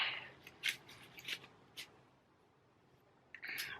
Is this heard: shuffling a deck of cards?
yes